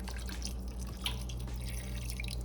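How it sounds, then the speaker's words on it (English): Water is added to a pot of potatoes cooking in a home kitchen, heard as faint close drips and small splashes over a low steady hum, no talking. "I'm going to add some more water."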